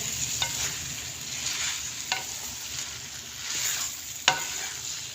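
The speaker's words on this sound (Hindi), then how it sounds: "सारी सब्जियां ऐसे मिक्स करेंगे" Vegetables with chopped tomatoes stirred in a kadai for an aloo shimla mirch curry, a constant frying sizzle punctuated by a few sharp spoon scrapes against the pan.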